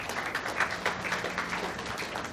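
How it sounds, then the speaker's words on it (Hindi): An audience welcomes a speaker to the stage at an Alcoholics Anonymous awareness event, a brief but steady wash of applause at moderate volume without a break. "मैं मिस्टर पूषण का स्टेज पे जोरदार तालियों से स्वागत करना चाहूँगा"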